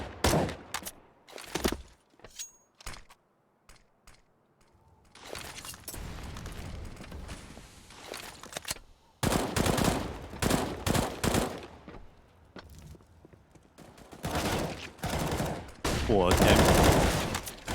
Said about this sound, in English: Sensei with the AWP lands the long-range shot